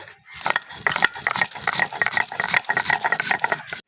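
Black mustard seeds ground by hand on a stone, giving a dense run of close, rapid scraping and rattling strokes that continue steadily without pause.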